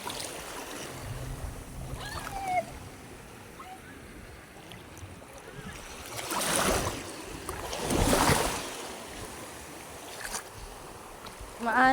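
Rough sea waves roll and wash along a rocky shore, with two louder surges breaking in the middle and a constant low rumble of water between them.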